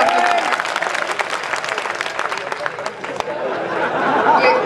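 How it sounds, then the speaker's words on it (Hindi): An audience at a Hindi poetry gathering (kavi sammelan) in Ratangarh claps steadily and loudly, dense applause filling the space with a little crowd chatter mixed in before it thins out. "आपने मेरा साथ देने के लिए तालियां बजाई"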